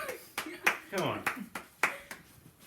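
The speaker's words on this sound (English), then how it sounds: "Please, round of applause, ladies and gentlemen." A few hands clap sparsely and unevenly for guests in a small room, with distinct separate claps while a voice talks over them.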